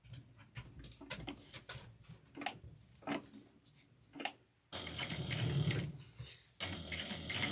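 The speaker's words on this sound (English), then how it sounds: "you're just going to top stitch the top here" A sewing machine top stitches a fabric slip pocket through several layers. Quiet uneven ticks and short bursts come first, then a louder steady run of stitching near the end.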